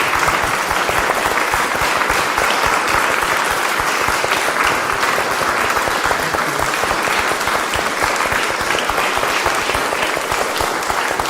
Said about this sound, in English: So could we give our beloved deacon a big round of applause?